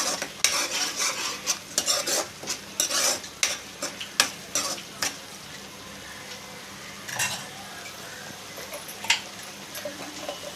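Curry leaves frying in oil and being stirred in a pan, a string of sharp spatula scrapes and clinks against the pan over a faint steady sizzle, busy at first and then thinning out, no talking.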